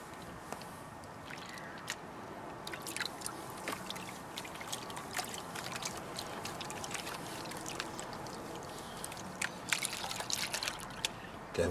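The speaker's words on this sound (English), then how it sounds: "Let's pan this out and see what we get." Gold ore being panned in water, soft continuous swishing and sloshing with small splashes and trickles as the pan is swirled, quiet and close with faint gritty scraping.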